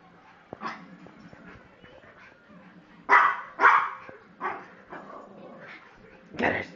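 A Yorkie scuffles with a 100 lb dog: a run of sharp, close barks and yips comes in uneven bursts, mixed with whimpering between them.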